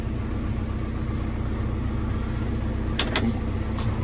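A John Deere 6320 tractor reversing, its engine a steady mid-pitched drone throughout with a few brief higher clicks near the end, no talk.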